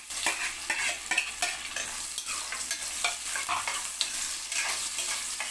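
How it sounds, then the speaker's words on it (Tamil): Whole spices, including cinnamon and cloves, fry in oil before onions go in, a continuous close sizzle with irregular scraping stirs and clinks of a spoon against the pan. "இது எல்லாமே நல்லா பொரிஞ்ச பிறகு நம்ம 3 பெரிய சைஸ் வெங்காயம் எடுத்து சேர்த்துக்கலாம்."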